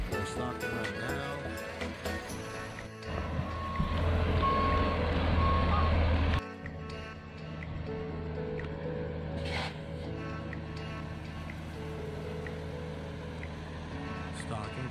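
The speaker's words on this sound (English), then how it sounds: "There is the trout truck." A trout stocking truck reverses at Lake Pardee on opening day, its backup alarm beeping steadily over a low engine rumble that grows louder for a few seconds, with outdoor lakeside ambience.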